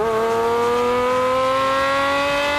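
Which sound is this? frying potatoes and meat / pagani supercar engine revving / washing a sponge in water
pagani supercar engine revving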